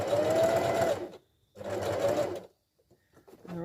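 A sewing machine set to its longest stitch length runs along the edge of a pot protector in two steady bursts of rapid mechanical whirring, close and loud, separated by a brief pause, with a faint voice at the end.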